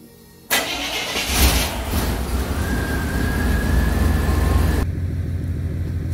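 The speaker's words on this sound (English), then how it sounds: "I'm gonna go start the truck" A 1989 Chevrolet K1500 pickup truck engine cranks and catches, then settles into a steady, loud rumbling idle with a faint whine riding over it.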